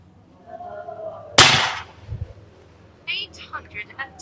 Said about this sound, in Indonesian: Tembakan yang ketiga